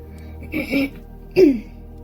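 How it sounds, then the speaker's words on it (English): Two short throat-clearing rasps, close and moderately loud, separated by a brief pause, over a low steady hum. "Sorry that I keep clearing my throat."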